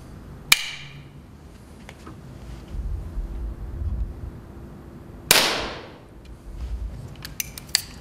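Two sharp cracks from an older-generation pre-compressed air pistol of the kind once used to train Geneva police recruits, fired at a sport shooting range several seconds apart, each with a quick snapping attack and brief ringing decay over a low murmur.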